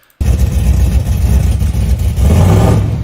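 Mr. Murder Nova's truck, loaded on a trailer, backs up in reverse. Its engine cuts in abruptly and runs loud and close, with a steady rumble that swells slightly near the end.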